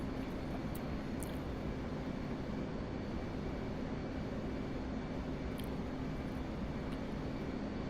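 Steady, dense jet engine roar from a Blue Angels aircraft in the DCS World flight simulator, a continuous broadband rumble with a faint high tone, unbroken and without talk.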